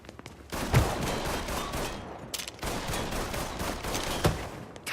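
Repeated gunshots and automatic bursts from the video game Mafia 3 crack loudly and close, coming in several clusters through a chaotic firefight.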